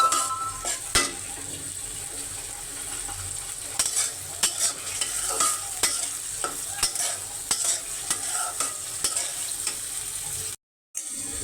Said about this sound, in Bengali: চিংড়ি মাছটাকে আমি বেশ খানি কষাবো।